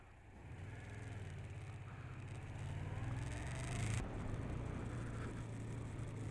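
A Yamaha MT-07 HO motorcycle being ridden makes a low, steady engine drone that slowly swells and climbs in pitch, with wind rush over it, fairly faint overall.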